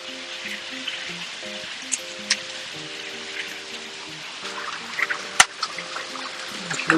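Hailstones come down in a storm as a continuous rattling hiss, with a few sharper close impacts standing out, under a repeating melodic tone pattern.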